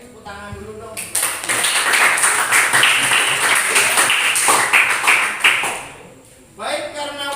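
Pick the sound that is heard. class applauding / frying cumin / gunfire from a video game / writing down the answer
class applauding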